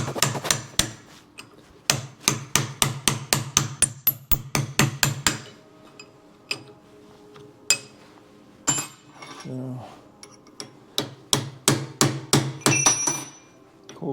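A hammer strikes a chisel on the front wheel bearing of a 1914 Chevrolet, giving sharp metallic blows in fast runs with short pauses between, close and clear, with a little talk in the gaps.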